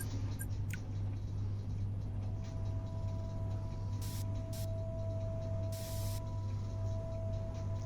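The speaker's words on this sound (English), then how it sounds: "A little bit of a spray on that" Spray paint hisses steadily onto a model mech in one continuous close spray over a low electrical hum, with no talking.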